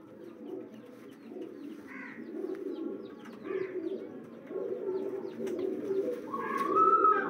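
Low flyer pigeons coo repeatedly at close range, soft throaty calls rising and falling over several seconds, with a few faint chirps and a higher call near the end.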